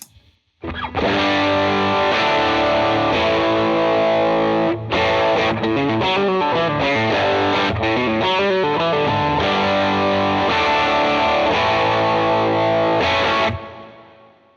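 Heavily overdriven electric guitar through stacked overdrive pedals rings out with thick, saturated distortion, strummed chords sustaining loudly with a brief break midway before fading out.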